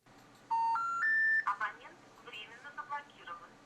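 A telephone being dialed: three short rising keypad tones play in quick succession, then a person starts talking right after them.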